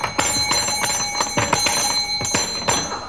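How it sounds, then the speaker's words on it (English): A handheld bell, apparently a desk bell, is struck repeatedly in an office job-interview comedy sketch, giving sharp, bright rings at uneven intervals, about eight strikes over a few seconds, each with a sustained ringing tone and no talking. "Why did you ring that bell?"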